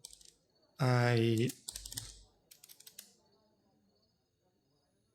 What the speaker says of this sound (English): I'm typing all the wrong letters in there.